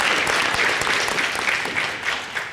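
A crowd applauds at a district attorney candidate forum, a dense, steady wash of clapping that holds fairly loud and slowly tapers toward the end.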